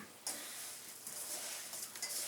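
Breadcrumbs being stirred by hand into ground beef in a bowl, a soft, steady mushy rustle with a few sharper scrapes against the bowl, close and continuous for a couple of seconds.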